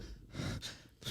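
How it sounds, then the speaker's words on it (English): Quick, breathy panting from a person on a podcast, a few short gasping breaths in and out at close range with no talking over them. "Why are you panting?"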